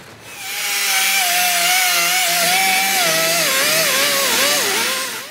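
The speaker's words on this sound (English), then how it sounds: "get the wire wheel out and just brush this all as clean as I can" A stainless steel wire wheel scrubbing cracked aluminum before TIG welding, a loud, steady whirring grind with a wavering whine that rises and dips near the end, alone with no talk.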